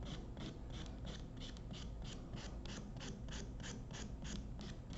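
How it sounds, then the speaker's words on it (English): A nail file rasping across an artificial nail tip during a cosmetology practical, even rhythmic back-and-forth strokes repeating about three per second, close and continuous with no talking. "Long strokes. Use your whole file."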